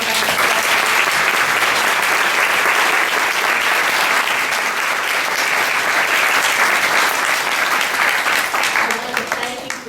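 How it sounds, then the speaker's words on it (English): A room at a retirement party breaks into loud, sustained applause for standing provider directors, a thick wash of clapping that holds for ten seconds before thinning at the close. "Can we give them a round of applause?"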